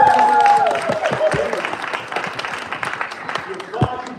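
Audience at a children's physics show clapping, with scattered hand claps mixed with crowd noise and voices talking over them, loudest at the start and then thinning out.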